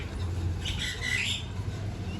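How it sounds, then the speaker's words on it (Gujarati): A common myna gives a brief, harsh squawking call at middle distance outdoors near a farm field, over a steady low background rumble. "જો ગાઈસ કાબર"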